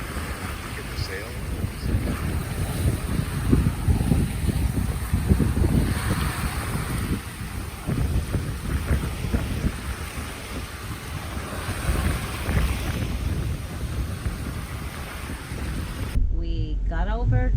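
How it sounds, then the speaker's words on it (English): A sailboat under way in open wind off Turks and Caicos, with steady, loud wind rush and water movement against the hull throughout, punctuated by faint voices in the background. "It was a beautiful day of sailing."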